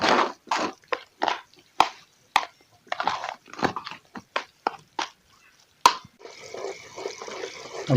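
Semolina (suji) is stirred into a glass of water for halwa, giving irregular wet slaps and scraping strokes that turn into a steadier, continuous swishing toward the end, with no talking.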